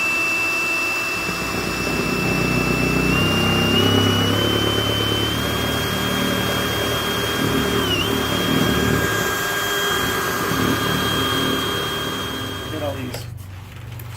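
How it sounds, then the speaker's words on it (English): A spot cutting bit on a power drill whines and grinds through spot welds on the cab brace of a Ford F250 under restoration, its sustained pitch rising and wavering before a metallic clatter at the end. "Take my spot cutting bit. Put some lubrication on the end of it."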